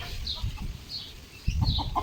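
Several chickens cluck softly in short, scattered calls against a noisy outdoor background, fairly close.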